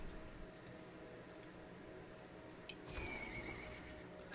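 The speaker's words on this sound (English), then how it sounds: "You'd get so pissed off at the noise from it because they make like a neigh every time you" A horse neigh sound effect that plays on each attack in a video game. A faint whinny rises over a low, steady game background, with light clip-clop ticking.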